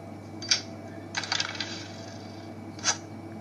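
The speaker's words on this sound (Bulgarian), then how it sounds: "Как издаде чак толкова силен звук, като изпуснах просто една туалетна хартия" A toilet paper roll dropped on a floor inside an abandoned school gives a few sharp, bright knocks and a short clattering burst, separated by quiet room hiss.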